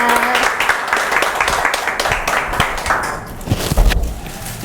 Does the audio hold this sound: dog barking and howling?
no